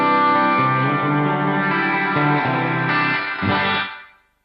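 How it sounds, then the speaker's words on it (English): A loud, clean electric guitar through a BOSS GT-10B on a JC-120 setting rings out in sustained chords awash in heavy reverb, then a noise suppressor cuts the sound off abruptly near the end. "there's a lot of reverb going on there, and it's getting cut off by the noise suppressor"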